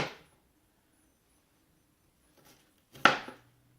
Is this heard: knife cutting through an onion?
yes